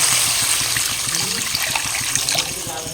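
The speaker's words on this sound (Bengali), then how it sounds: "এবার এর মধ্যে জল দিয়ে দেবো" Water pours steadily into hot frying spice masala for a hilsa and eggplant curry, a loud, continuous rushing splash with sizzle close by, no talking.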